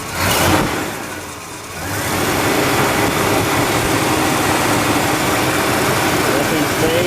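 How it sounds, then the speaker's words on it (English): A 1969 LeMans car engine roars loudly after a brief dip, then holds a strong, sustained revving drone close by. "Give it a little rev."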